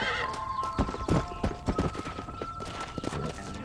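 In the Red Dead Redemption video game, a horse whinnies loudly while hooves clip-clop in quick, uneven steps close by, with brief game voices mixed in.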